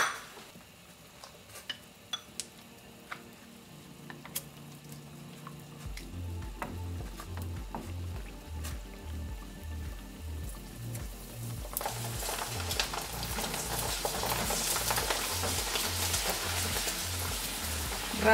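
Pork rinds (chicharras) fry in hot oil with a steady bubbling sizzle. The sizzle starts soft, then grows louder and denser, with occasional stirring clinks, and no one speaks.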